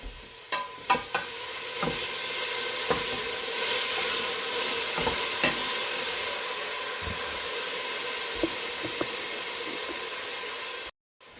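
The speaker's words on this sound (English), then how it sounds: "Alright, so I'm just giving this a stir" Chicken stew simmers in a pot with a constant steamy sizzle while a spoon scrapes and taps against the pot a few times, then everything cuts off abruptly at the end.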